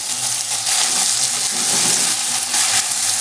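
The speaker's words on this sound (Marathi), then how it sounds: "आता त्याच्यामध्ये मी कढीपत्ता टाकते, टमाटर आणि परत एकदा अशी हलवून घेते." Curry leaves and tomatoes fry in a pan after browned onions, giving a steady loud hiss and sizzle with soft stirring scrapes, close up and with no talk.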